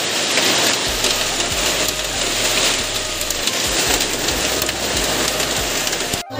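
Heavy rain with hailstones falling outdoors at a college, a loud steady downpour hiss broken by irregular hard impacts from hail close by, continuing without pause.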